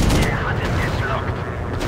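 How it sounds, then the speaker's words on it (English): Steady machine gun fire rattles from a WW1 fighter plane in a VR flight combat video game, a loud, continuous stream of rapid shots layered over engine roar. "I'm just using my machine guns"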